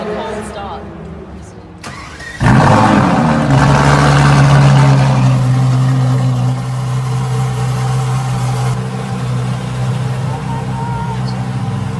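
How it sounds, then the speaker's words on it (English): A supercar engine cold-starting, with a sharp crank catching into a loud, steady high idle that then settles slightly lower, while a person talks over it. "This is a cold start."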